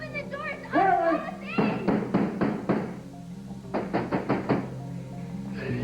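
Two quick series of firm knuckle knocks on a wooden door, each a run of four or five evenly spaced raps close by, with voices calling out before and in between.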